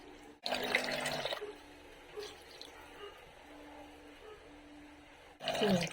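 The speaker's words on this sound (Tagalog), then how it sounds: "Lalagyan ng tubig, no?" Water poured into a cooking pot for tilapia pinangat with calamansi, a near splashing pour in two short bursts with a quiet pause between them.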